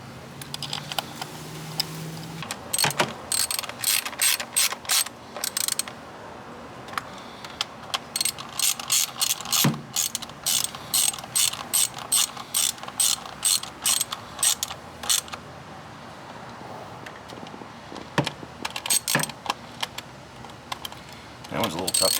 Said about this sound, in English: we're ready to finish putting in the hold down bolts